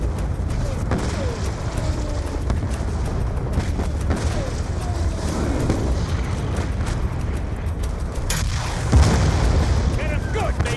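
Tanks being struck by explosions in the Black Ops 2 video game campaign, with repeated booming blasts and rumbling battle noise. A heavier burst lands near the end, over a constant low roar.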